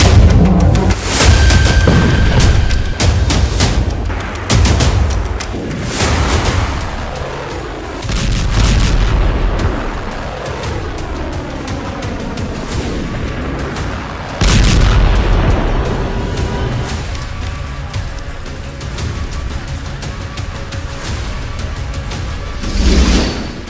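Repeated heavy booms of artillery shelling and bomb explosions from Israeli strikes on Lebanon, loud close blasts separated by rumbling decays and echoing tails, with no voices.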